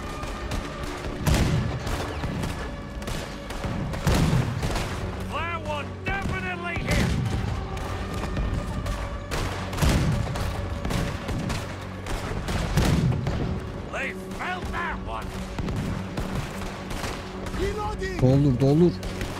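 Cannons firing at a boat in the video game Red Dead Redemption 2: repeated heavy booms every few seconds with rumbling tails, under almost constant shouting voices and battle clatter.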